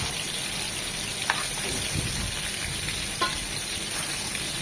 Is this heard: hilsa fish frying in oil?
yes